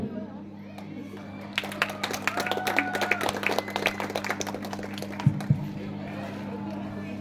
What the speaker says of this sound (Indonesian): Sekali lagi berikan tepuk tangan yang meriah kepada peserta dengan nomor undian 4